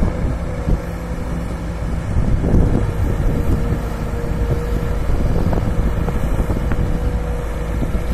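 Gusty wind buffets an outdoor camera microphone at a digging site, making a steady, loud low rumble that swells and eases throughout with no speech.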